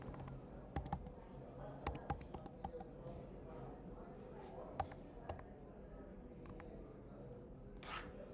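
Keystrokes on a computer keyboard while a test name is entered into an online test portal, scattered clicks in short irregular bursts, fairly faint, with a low background hum and a few other small taps.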